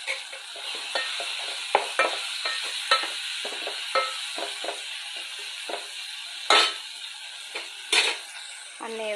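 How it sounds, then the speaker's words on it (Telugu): A spoon stirs a paste of cocoa powder and red chili powder in a pan, making a series of close, irregular scraping and clinking strokes with soft sizzling between them and no talking. "అన్నీ ఈ విధంగా చక్కగా మిక్స్ చేద్దామండి ఒక నిమిషం."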